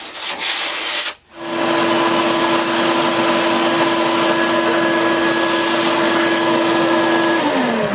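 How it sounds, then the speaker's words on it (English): A vacuum cleaner with a brush attachment runs over a reshaped 2005 Starboard Formula windsurf board, a loud steady whine and rush that starts after a brief dip and holds constant, with a sustained tonal hum. "I'm going to vacuum using a brush attachment"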